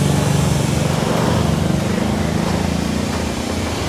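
A motorcycle engine idles steadily and loudly up close after being started through a touch-sensor alarm, giving a constant low rumble with no speech.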